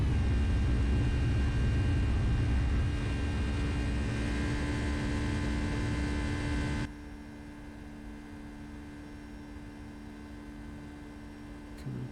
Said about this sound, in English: What a nice gentle takeoff